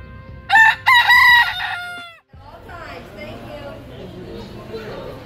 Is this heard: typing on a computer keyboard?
no